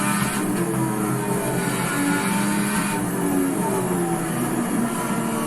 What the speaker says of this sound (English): Funny how it sounds so much different in the newer Formula 1 car